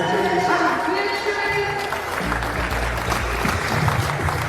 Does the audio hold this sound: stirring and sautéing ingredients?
no